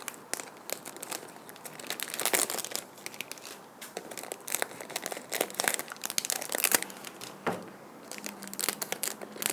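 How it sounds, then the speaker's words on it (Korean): Scissors trim protruding plastic liner sheeting at the rim of a flower box, giving irregular bursts of crinkling, snipping and rustling plastic up close, with no talking. "튀어나온 비닐은 가위로 잘라주시면 됩니다."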